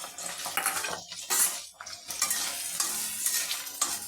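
Chillies and onions stirred in hot mustard oil in a wok, a busy scraping and clattering of a spatula against metal over a steady hiss of frying, close and continuous with brief pauses between strokes.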